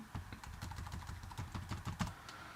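Fingers type on a Mac computer keyboard in a quick, uneven run of close, crisp key clicks that continues throughout without pause or speech.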